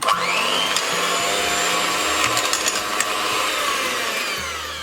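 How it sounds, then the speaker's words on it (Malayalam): An electric mixer beats eggs and milk for a rose milk tres leches cake batter, a steady, close, whirring motor drone with faint rattling from the beaters in the bowl. "എന്നിട്ട് ജസ്റ്റ് ഒന്ന് ബീറ്റ് ചെയ്യാം."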